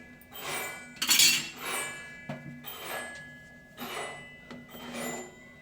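Metal pots and utensils clink and scrape in a home kitchen as a jaggery pot is lifted and moved while cooking moong dal payasa, with several close, bright clatters spread through the clip, one louder burst early on, and no talking.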